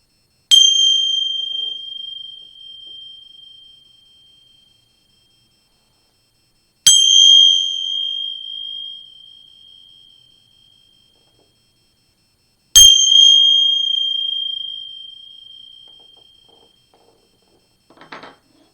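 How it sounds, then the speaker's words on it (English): Three loud bell clangs ring out several seconds apart, each sustaining a bright metallic tone that slowly fades to silence before the next strike. "You're going to hear 3 loud clangs with these bells"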